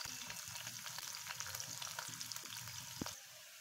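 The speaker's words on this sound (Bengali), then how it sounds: "আমি এখন রসুন দিয়ে দিচ্ছি, রসুন কুচি। তার ভিতরে দিয়ে দিচ্ছি কাঁচা মরিচ কুচি, দিচ্ছি পেঁয়াজ কুচি," Chopped garlic, green chili and onion frying in hot oil, giving a steady loud sizzle with crackles and a few sharp spits, and no voices.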